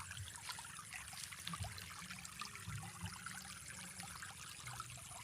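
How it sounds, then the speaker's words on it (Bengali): Pond water drained by a siphon without a pump, a quiet continuous trickle and dribble of flowing water with faint outdoor ambience and no talking. "এই পুকুরে দেখুন কিভাবে সাইফনের কার্যনীতির দ্বারা পুকুরের জলটাকে কমানো হচ্ছে।"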